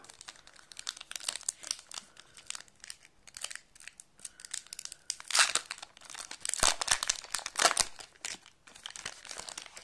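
Foil wrapper of a trading card booster pack being torn open and crinkled by hand, a close, busy run of crackling rustles and rips with louder bursts near the middle and end, no talking.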